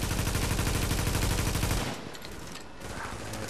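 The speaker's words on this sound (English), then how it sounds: "Single shot." Gunfire in The Division rattles as a rapid, loud burst of shots in a steady rhythm, then stops abruptly and leaves quieter background game noise.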